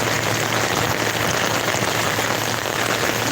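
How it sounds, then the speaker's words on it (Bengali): Steady rain pours down in a dense, unbroken hiss, loud and close, with no voices or other sounds over it. "ঝড় এখন নেই কিন্তু আপনার বৃষ্টি আছে"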